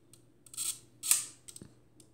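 Shutter of an old Photo Plait Luxoflex camera with a Som Berthiot Flor 75mm f3.5 lens, somewhat gummy, firing at a 1-second slow speed: a close mechanical click, brief whir, then a second click, in quiet.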